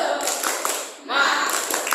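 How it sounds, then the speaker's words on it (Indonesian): A classroom of students doing a rhythmic spirit clap on the teacher's cue, with quick bursts of clapping, a brief dip, then renewed clapping, fairly close and lively. "Satu kali tepuk semangat."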